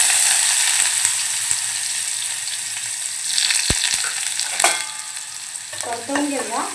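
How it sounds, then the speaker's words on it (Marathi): Chopped onion sizzles in hot oil with cumin seeds in a cooker, a steady frying hiss broken by a few sharp scrapes and knocks of a spoon being stirred, close and with no talking. "कांदा नरम होईपर्यंत आपल्याला परतवून घ्यायचा आहे।"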